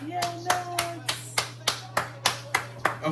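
A small group claps hands together in a steady rhythm at home while watching the Las Vegas Grand Prix, about ten sharp claps under a faint steady hum.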